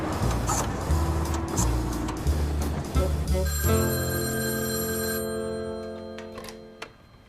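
A telephone bell ringing amid traffic noise with a car engine, a sustained ringing tone that swells out over the street sound and then fades away, with no voices.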